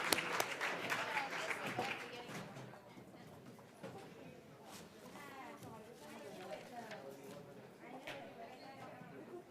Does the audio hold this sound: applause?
yes